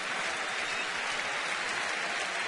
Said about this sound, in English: Now the crowd clapping for an inning-ending strikeout